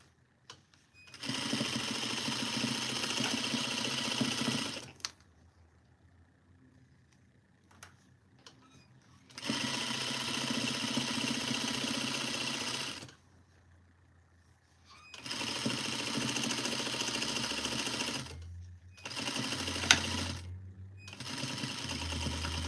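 Close sewing machine stitching a duster from Simplicity pattern 8059, running in three long steady whirring bursts separated by quiet pauses, then a short final burst.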